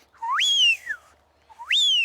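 Wigeon ducks give two clear whistles, each a sharp upswept note that slides down again, separated by a short pause. Both are close and loud against a quiet background.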